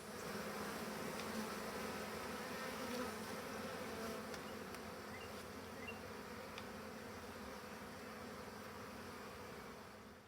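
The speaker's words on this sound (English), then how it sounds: "The bees will start building some comb on the new frames" A dense, steady buzzing of a honeybee swarm being installed into a Layens hive fills the whole clip, loud and continuous with no voices.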